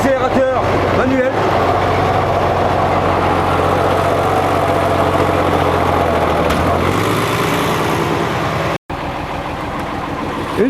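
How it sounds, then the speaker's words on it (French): An M35A1 army truck engine held at 1100 rpm by the hand throttle for winching, a loud, steady low rumble that runs continuously, easing slightly near the end with a brief dropout. "Moteur à 1100 tours, position la plus en avant, avec l'accélérateur manuel."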